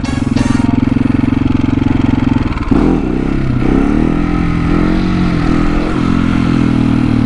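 Husqvarna 701 motorcycle engine revs hard and loud during a second-gear wheelie, a steady high drone that dips briefly before climbing again, with some clatter from the bike.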